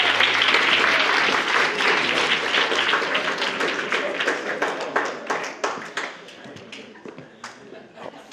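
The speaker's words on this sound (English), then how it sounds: "Another round of applause for Lisa," Wedding reception guests give a hearty round of applause after the maid of honour's speech, dense clapping starting loud and full, then thinning into scattered claps as it fades toward the end.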